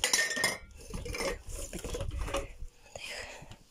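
Glass jars clink and knock against each other as they are carried and set down at a countryside dacha, in short, close, irregular bursts, with someone talking quietly over them.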